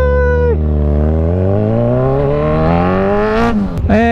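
A Kawasaki Z1000R motorcycle engine revs up loudly with a rising, harmonic-rich whine, climbing steadily before a sharp peak and drop near the end, close and alone.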